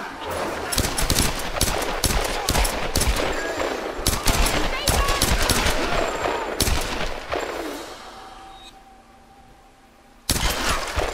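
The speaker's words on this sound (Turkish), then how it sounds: "tabanca" Pistol fire in the video game Tomb Raider: rapid, close shots crackle in a dense volley for about seven seconds, fade into a quiet stretch, then one more sharp shot bursts in at the end.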